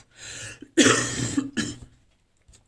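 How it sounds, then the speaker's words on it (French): A few harsh coughs in quick succession, close and fairly loud, followed by quiet. "excusez-moi si je tousse encore"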